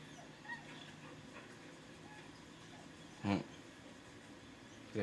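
A dog whimpers and yips softly in the fantasy role-playing game Baldur's Gate 3, faint high whines over a low ambient hum, with a couple of short louder bursts near the middle and end.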